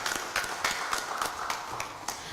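Audience applause at an official group-stage draw ceremony: a steady patter of many hands clapping in a hall, moderately distant and even throughout, with no talk over it.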